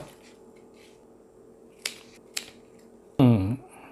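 A Marble King pothos (Epipremnum pinnatum) stem being cut into cuttings: two crisp, quiet snips in an otherwise still room, followed by a brief brighter rustle.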